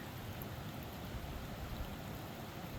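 A winter creek runs fast, giving a soft, steady broadband rush of flowing water that holds throughout at a fairly faint, distant level, with no talking.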